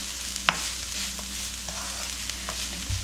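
Dried bellflower root (doraji) being stir-fried in a pan with green onion and sesame seeds: a soft, steady sizzle with a few sharp utensil clicks, no talking.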